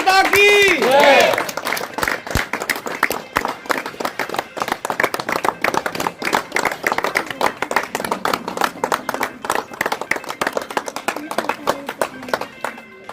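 A crowd claps for Diwan International School teacher Jyoti Singh at a cow protection gathering, beginning with a brief chant, then sustained loud, rhythmic clapping that runs steadily throughout.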